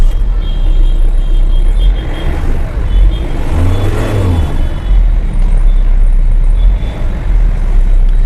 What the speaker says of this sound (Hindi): एक बार अपन गाड़ी स्टार्ट करके भी देख लेते हैं ना, हर बार की तरह।